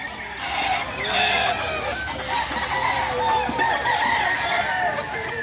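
Many chickens clucking and squawking in a dense, continuous chorus, close by, with a rooster among them and a voice talking in Tagalog over the flock, in Lipa City, Batangas, Philippines.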